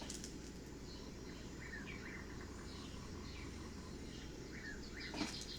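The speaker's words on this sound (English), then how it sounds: "I hope the birds and stuff ain't too loud" Faint bird chirps scattered over a steady low hum of background noise, with a few brief tweets standing out near the end.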